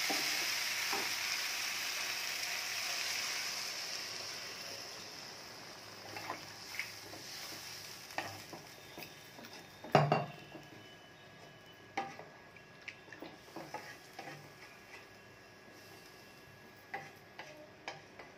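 Chicken cooks in a pan without oil after broth is added, giving a soft steady sizzle broken by scattered clicks and scrapes of stirring, with one sharper knock midway.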